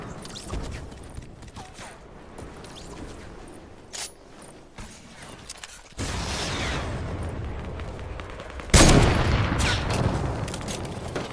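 Gunfire and bursts in a Fortnite match, a loud, noisy run of shots and blasts that jumps louder in stages toward the end, with no talking over it.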